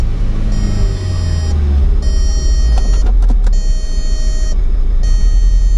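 A 2003 VW Beetle cruising at highway speed: a loud, steady low road rumble and engine drone fill the cabin, with a repeating high-pitched warning chime sounding on and off over it.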